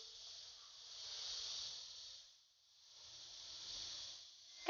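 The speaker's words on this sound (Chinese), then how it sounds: "盖上盖子，小火煎2分钟，一面煎至定型" Batter of green beans and soaked onion fries in a lightly oiled flat pan, covered, over low heat, giving a soft, steady hiss that swells and fades twice.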